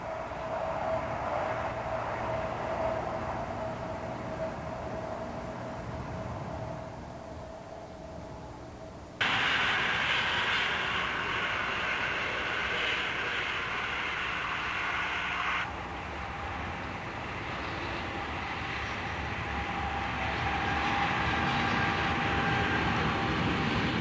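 A train speeds along a main line in Holland with a sustained broadband rushing roar, shifting in intensity partway through, steady and moderately loud with no talk.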